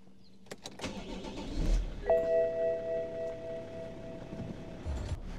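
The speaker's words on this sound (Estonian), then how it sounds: "Tšekkige seda külmkäivitust." A BMW E61 estate's engine cold-starts with a short starter crank, catches, then settles into a steady, fairly loud idle with a whine, no talking over it.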